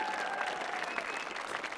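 Audience applause for a drummer at a live concert on the Millennium Stage, steady dense clapping with crowd noise throughout, with faint sustained tones from stage instruments underneath.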